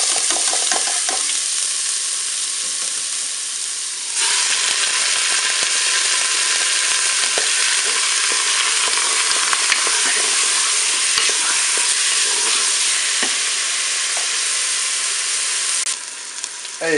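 Pieces of pork shoulder and onions brown in a Cookeo multicooker, a loud, steady sizzle up close with occasional scraping stirs running throughout.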